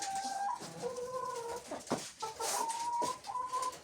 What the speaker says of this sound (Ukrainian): покажу зараз у брудері наших перепелів